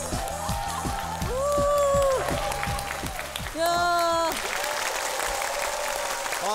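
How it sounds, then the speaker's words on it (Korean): A TV studio audience on a Korean talk show breaks into applause after a sung line, the dense clapping running steadily to the end. "박수"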